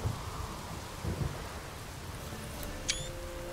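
Thunder and rain in The Witcher 3 video game: faint low rumbles of thunder under a soft, steady rain hiss, with a short bright high tone near the end.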